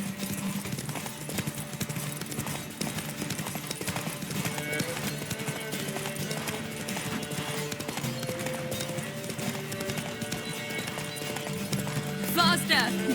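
Galloping hooves of Roach, a horse in the video game The Witcher 3, clip-clop steadily throughout, mixed with game music and occasional voices.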